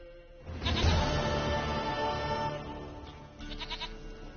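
A goat in the video game Witcher 3 gives a long, wavering bleat up close, followed after a short pause by a second shorter bleat.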